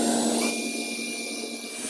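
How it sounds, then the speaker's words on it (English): A power drill whines at a steady high pitch during a cutless bearing replacement on a Nordhavn 46 boat, dipping slightly as it bites into material, close and continuous with no voices. "here's just where I want to drill"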